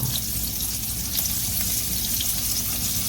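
Flounder fish sizzles and crackles steadily in hot grease, a constant close frying hiss with no voices.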